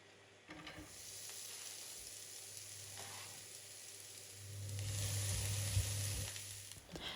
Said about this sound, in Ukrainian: На розігріту сковорідку наливаємо олію та смажимо цибульку до золотистого кольору.